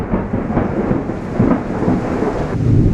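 Thunder from a Florida lightning storm rolls as a loud, steady low rumble that swells and fades over a few seconds, with rain hissing underneath and no voices.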